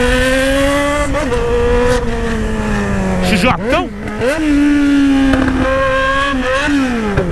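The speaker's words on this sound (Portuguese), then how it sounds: "olha o tanto de carro passando ali" Steady engine drone of cars on a nearby road, with one vehicle's engine note dipping and rising as it passes around the middle, continuous and fairly loud under a voice.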